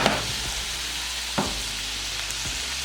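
Breakfast potatoes fry in a pan with a steady, even sizzle close by, broken by a few soft clicks and scrapes from the pan; no voices.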